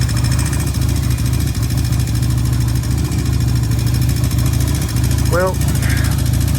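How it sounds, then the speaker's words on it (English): A 1994 Yamaha engine idles steadily and loud up close with a fast rhythmic valve tapping running through it, while someone speaks briefly over the running motor. "see the tapping, I think we've unstuck the valves"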